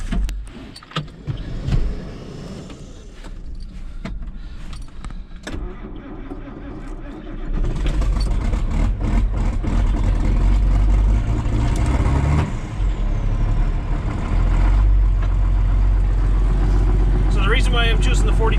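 A John Deere 4055 tractor starts on a windy, cold farm day: clicks and handling noises, then the engine catches around the middle and settles into a loud, steady low diesel rumble while someone talks over it.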